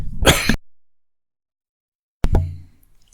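A single sharp cough, close and loud, then silence before a second throaty cough or clearing sound.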